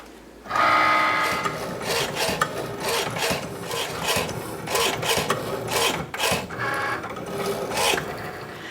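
Rotary blade of an electronic cutting machine slicing through felt on a craft table, a steady, close rasping drone with repeated rhythmic pulses as the blade travels, running continuously for the full stretch with no talking.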